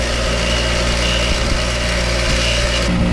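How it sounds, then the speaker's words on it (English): A bench grinder wire wheel whirs steadily as spark plugs from an abandoned 1980s C10 are cleaned on it, a loud, close, continuous high grinding hum with slight scratchy variations. "I'm just gonna send them for a turn on the old cinch grinder wire wheel."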